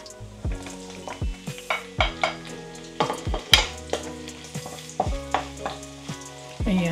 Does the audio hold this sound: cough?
no